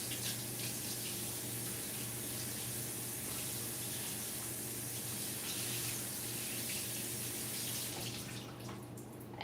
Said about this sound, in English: I am going to wash my washcloth and wash my hands